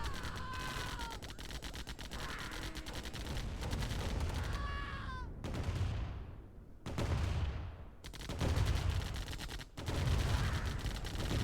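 Rapid bursts of minigunner and turret gunfire in a Command & Conquer-style strategy game on the Green Acres map, crackling in clustered volleys with sweeping whooshes between them, loud and continuous with no talk.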